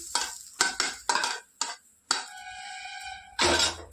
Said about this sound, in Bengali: দিয়ে আরেকটু নাড়াচাড়া করে নেবো